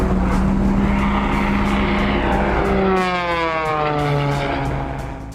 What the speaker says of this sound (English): keeping planes in focus as they sped through the course at over 200 miles per hour